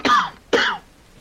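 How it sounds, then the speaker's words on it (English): Two short throaty coughs about half a second apart, close and fairly clear against a quiet background, with no rain audible. "even in the rain, you guys hear a cough"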